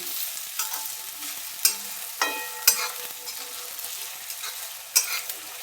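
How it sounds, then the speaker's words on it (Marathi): Finely chopped onions sautéing in a pan with capsicum for butter pav bhaji, a soft sizzle under sharp intermittent scrapes and clinks of a spoon stirring, close and without talk. "आता घालू याच्यामध्ये बारीक चिरलेला कांदा तीन कांदे घेतले होते मी कांदा छान परतून घेऊया"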